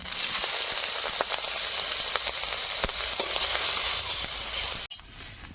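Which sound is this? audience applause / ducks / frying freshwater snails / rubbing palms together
frying freshwater snails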